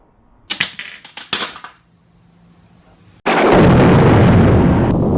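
An impact driver drives screws into a plastic third brake light: a quick series of sharp clicks, a short pause, then a loud, sustained hammering rattle that runs to the end, with no talking.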